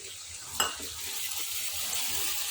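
Chopped tomatoes drop into a pan of frying potatoes with a brief splash, then a steady close sizzle carries on alone.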